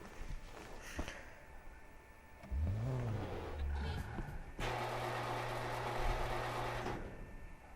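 A small Smart car driving in GTA V Online, with a steady buzzing engine drone that rises and sweeps in pitch, then settles into a loud sustained hum, with some talk at the start.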